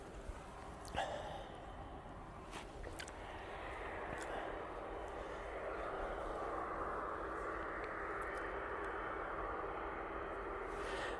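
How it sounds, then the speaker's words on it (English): An air tanker aircraft flies over during a close-up Boeing 747 arrival watch, its engine roar swelling gradually and holding loud and steady, with a few faint breaths near the start. "Air Tanker."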